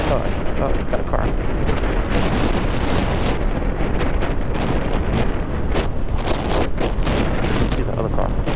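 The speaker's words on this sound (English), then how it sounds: "It's windy out." Heavy, continuous wind buffeting roars across a microphone on a moving 2024 Kawasaki Ninja 500 KRT motorcycle, loud and unbroken throughout with the engine buried beneath it.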